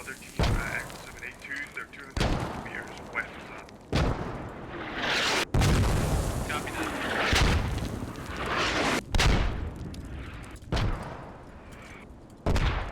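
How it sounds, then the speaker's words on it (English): Mortar shells exploding in the Squad video game, several sharp loud blasts spaced a second or two apart, with someone talking between and over the impacts. "Dorf's mortars landing on US position"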